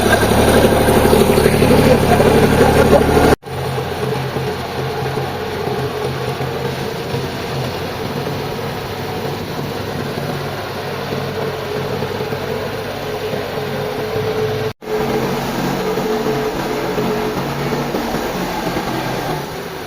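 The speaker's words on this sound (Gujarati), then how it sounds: "બાકી આજે ટ્રેક્ટર ના ધબરકા બોલાવી દેવાના છે આ ટ્રેક્ટર ના" A tractor engine keeps up a steady low rumble close by. The sound cuts out briefly twice, and faint background noise comes and goes.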